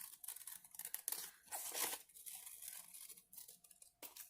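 Scissors cut a circle out of paper in a series of quiet, close snips with crisp, crinkly paper rustle. The short bursts come unevenly, with tiny pauses between cuts.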